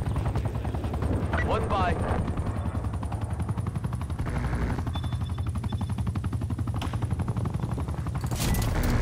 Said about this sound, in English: Helicopter is ready to deploy